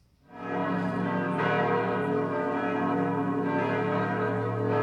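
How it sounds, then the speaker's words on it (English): Church bells ring loud and full, a dense sustained peal of overlapping tones that swells in quickly and carries on steadily throughout. "It was church bells ringing."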